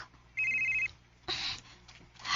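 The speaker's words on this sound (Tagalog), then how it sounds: "Si Anton ang nanawag" A telephone rings with an incoming call, sounding a short electronic trill followed by a second ring burst, moderately loud with no voices.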